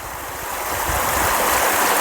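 A stream flows over rocks in steady, broadband rushing water close by, holding an even level throughout with no voices.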